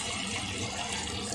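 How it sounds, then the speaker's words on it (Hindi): Water poured into a cooking pan for paneer kadhi, a brief continuous splashing rush of liquid, loud and close, with no talk. "पानी डाल दूंगी"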